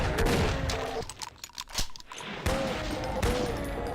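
Rapid gunfire in a first-person shooter, a fast crackling burst of shots that drops away, comes back in sharp single reports and then runs on loud, with faint keyboard clicking underneath.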